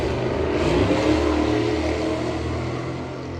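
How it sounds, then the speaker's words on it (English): Passing cars outdoors with a broad, steady roar of engines and tires, moderately loud and continuous, with no talking. "you just heard cars acting stupid out there"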